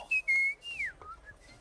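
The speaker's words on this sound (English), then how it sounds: "look to the left, and the whistling stops. And then all of a sudden it starts up again" A thin, clear whistle drifts through short sliding notes, a few level tones and one falling glide, separated by brief gaps, fairly close and on its own, with faint breathy hiss around it.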